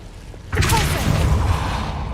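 The Repulsor spell fires in Hogwarts Legacy with a sudden blast halfway through, opening into a broad whooshing burst with rumbling low tones that stays loud to the end after a quieter start.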